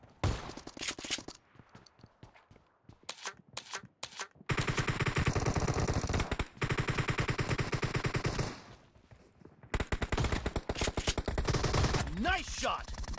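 Shotgun blasts in a PUBG Mobile team deathmatch ring out as sharp isolated shots early on, then long dense stretches of rapid firing, loud and close, with game voice lines over the top near the end.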